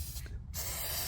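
An aerosol can sprays a coating onto faded plastic car trim in a steady close hiss, broken by a brief gap before the spray resumes and holds.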